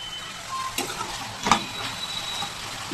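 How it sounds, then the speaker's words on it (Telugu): Masala raw banana slices sizzle in a pan over a high flame with a soft, steady frying hiss, broken by a few sharp clinks and scrapes as the pieces are stirred. "మధ్య మధ్యలో కలుపుతూ ఫ్రై చేసుకోవాలి."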